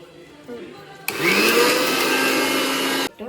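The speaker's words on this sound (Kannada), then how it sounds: "ಮಿಕ್ಸ್ ಮಾಡ್ಕೊಂಡು ಪುಡಿ ಮಾಡ್ಕೊಬೇಕು" Loud, steady whir of a mixer grinder powdering curry leaves and spices for chakli, starting abruptly after a moment of quieter room sound and cutting off near the end, with a faint voice before it.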